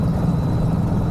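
A farm tractor engine rumbles steadily in the open countryside near an old hill fort, a low continuous drone with no pauses through the short stretch.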